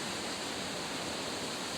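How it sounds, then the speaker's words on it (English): A waterfall roars as a steady, dense broadband rush heard close and continuous, with no breaks or other sounds. "today we stopped at a waterfall"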